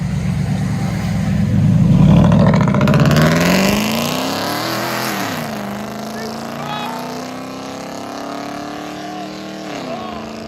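A 2011 Chevy Silverado V8 pickup with loud exhaust revs hard and pulls away, its throaty roar rising then settling into a fading drone as it drives off.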